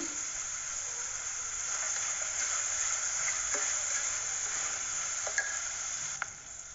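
Tomatoes frying with onions in a pan, a steady close sizzle and hiss with occasional soft stirring clicks, no voices.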